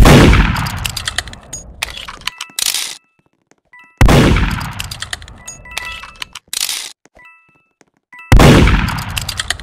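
Three loud sharp gunshot cracks in Roblox Murder Mystery 2, each about four seconds apart, followed by metallic ringing clangs and pings that decay into near silence.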